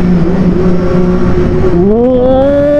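A Yamaha Serow 250 single-cylinder motorcycle engine hums close and loud at a steady note, then revs upward in pitch near the end.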